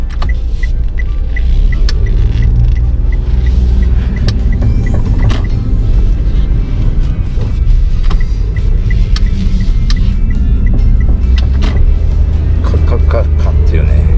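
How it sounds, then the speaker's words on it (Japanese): A Daihatsu Move LA100S is being driven with an abnormal, drive-shaft-like noise. Inside the cabin, a loud, constant low road and drivetrain rumble carries through the whole stretch, with faint clicks and rattles scattered on top. "ちょっとドライブシャウトみたいなね音してます。"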